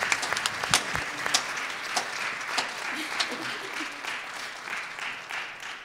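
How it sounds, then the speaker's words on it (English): A Christmas Eve church congregation applauds the children, a steady stretch of clapping with a few sharper individual claps near the start, moderately loud throughout. "let's give the children a round of applause"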